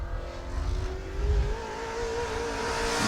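Modified race car, number 87, on a qualifying lap at New Smyrna Speedway, its engine drone rising in pitch as it approaches and passes, loud and sustained with a steady high whine.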